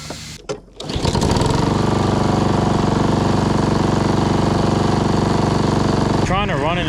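A Honda lawn mower engine set to run rich catches after a few brief knocks and then holds a loud, steady, buzzing drone, with a short burst of speech near the end.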